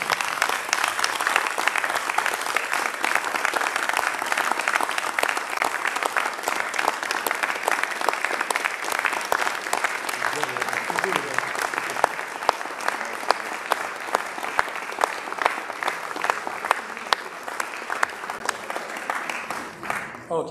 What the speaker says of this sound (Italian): come minimo un applauso vero al professor Maverick